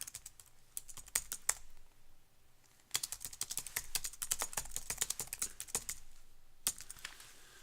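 Steady bursts of fast typing on a computer keyboard, close and fairly quiet, with a brief pause before the keystrokes resume in quick clattering runs.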